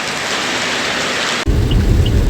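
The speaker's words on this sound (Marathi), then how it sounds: "आणि समोर पाऊस बघू शकता तुम्ही, किती डेंजर पाऊस आहे" Heavy, dangerous-sounding monsoon rain on a drive in Maharashtra: a dense, steady roar of downpour, then an abrupt shift to a deeper, rumbling wash that continues loudly to the end, with no voices.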